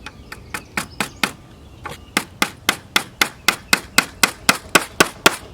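A hammer taps a honey super frame together in a steady series of about eighteen sharp, close knocks, loud and evenly spaced with brief pauses, and no one speaks.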